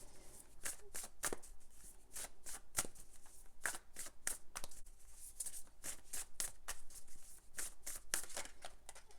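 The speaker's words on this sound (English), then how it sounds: "Let's draw another card and see what else comes up here for Libra collective." Tarot cards are shuffled and drawn by hand, a close, quiet series of crisp riffling bursts and soft slaps in an irregular rhythm, with no talking.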